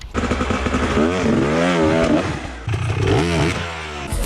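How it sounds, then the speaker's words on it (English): An enduro dirt bike engine revs hard during a clutch drop to climb over an obstacle, a loud close fluctuating roar that rises and dips twice across the clip, alone without talk. "throw your body forward and do a precisely timed drop of the clutch"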